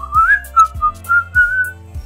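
A person whistles a short tune with several clear sliding notes, close and alone, while soft low thumps mark a steady beat underneath.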